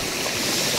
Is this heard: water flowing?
yes